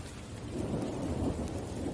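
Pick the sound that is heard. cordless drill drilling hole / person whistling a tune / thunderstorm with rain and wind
thunderstorm with rain and wind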